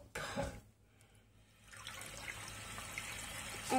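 Tap water rushing into a balloon fitted over a faucet for a homemade fountain, a splashy gush at first, then a dip and a steadier, fuller flow that swells again at the end.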